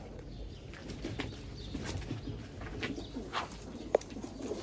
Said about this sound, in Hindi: ये लाल रांझा कबूतर है। बहुत अच्छा कबूतर है माशाल्लाह।